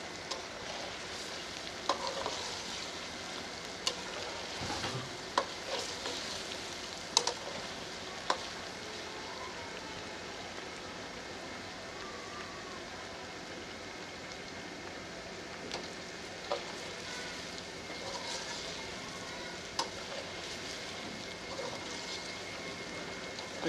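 Potatoes fry in ginger and garlic paste in a karahi for an Afghani aloo karahi, giving a steady close sizzle with occasional stirring clinks and scrapes throughout, no talking.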